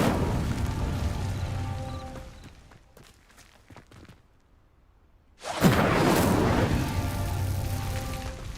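In the Hogwarts Legacy video game, an Incendio fire spell lights a pyre, bursting into a loud whooshing roar of flame after a quiet lull, then sustaining a steady crackling blaze.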